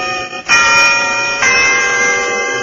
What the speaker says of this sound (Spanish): el viejo reloj de la catedral daba las 12 campanadas